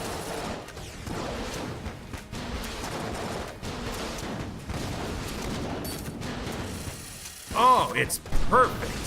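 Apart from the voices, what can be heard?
Stinger gun firing at boss in video game Enter the Gungeon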